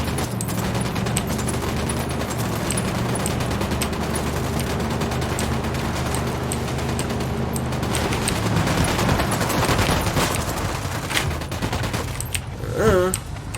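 Sustained automatic gunfire rattles through a firefight in Ghost Recon Wildlands, dense overlapping bursts running continuously and loudly, with a brief sharper flurry near the end.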